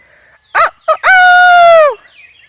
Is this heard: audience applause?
no